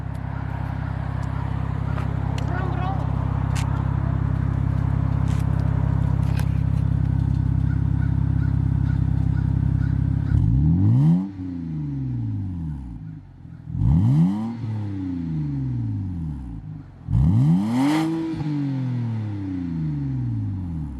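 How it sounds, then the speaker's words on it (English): A cold 2009 BMW 328 e90 with a muffler delete idles with a loud, steady rumble, heard from behind the car. Then comes a series of sharp revs, each one climbing and falling back to idle, with no talking. "give it a couple good revs from back here."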